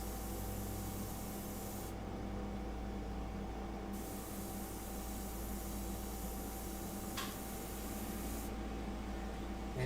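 An older airbrush with a larger needle and nozzle sprays paint in a continuous soft hiss, steady and close, with brief pauses in the upper hiss.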